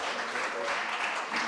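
Audience applause for a team taking the stage at a live hackathon event, a steady dense wash of many hands clapping filling the whole moment, with a faint voice mixed underneath.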